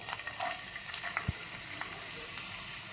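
Garlic fries in hot coconut oil, already used for frying chicken, with a faint, even sizzle and a single soft knock partway through.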